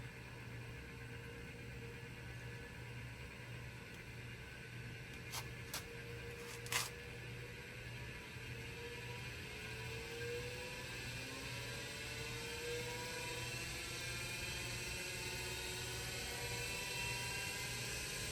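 An Azure Dynamics AC24 electric motor spins up under gradually increasing throttle, a quiet steady whir whose tones climb slowly in pitch over a low hum, with a few brief clicks partway through.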